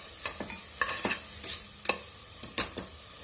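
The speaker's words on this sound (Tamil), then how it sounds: "அடுத்ததாக நான் அரைச்சி வச்சுருக்க அந்த பொடி அதையும் சேர்த்து இது கூட நல்லா தாளித்து விடுறேன்" Onion, tomato and ground spice powder sauté in a pan for pearl millet porridge, a soft close sizzle punctuated by a quick series of sharp spatula scrapes and stirring clicks, with no talking.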